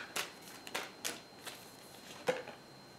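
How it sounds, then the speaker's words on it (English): Tarot cards being shuffled in a few short, soft bursts spaced roughly half a second apart, with a final riffle near the end; quiet and close, with no talking. "Let's shuffle on that."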